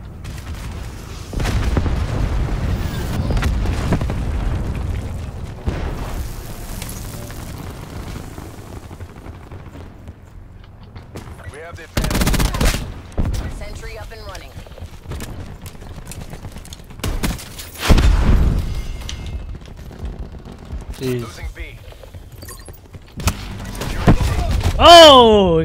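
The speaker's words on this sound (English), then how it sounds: "he got me with the rocket launcher" Black Ops 4 Chaos Domination gameplay carries heavy booming blasts and bursts of gunfire, with one rocket launcher explosion among several loud hits spread over the stretch, while a player talks intermittently over the action.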